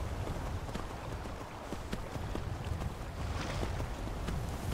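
Horse hooves clip-clop steadily on the ground in the video game Skyrim, a continuous rhythmic plodding at moderate volume over light wind, with no talking.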